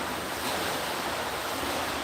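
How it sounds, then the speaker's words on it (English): Ocean surf at the beach in Encinitas makes a steady broadband wash of waves, with some wind noise on the microphone and no voices. "You can hear the water"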